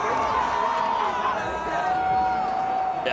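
Packed crowd cheering and whooping on a Friday night at X Games Aspen, a continuous roaring swell of voices with a bright sustained whistle or shout over it.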